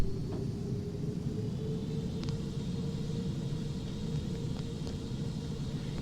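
Jet engines of a Boeing 747-400 in the X-Plane 11 flight simulator spool up as a steady low rumble with a sustained hum, moderately quiet and continuous with no speech.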